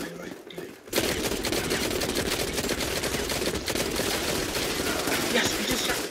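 Gunfire from the mobile shooter Modern Combat 5 bursts out after a short quiet moment and keeps going as a dense, continuous rattle of rapid shots for several seconds.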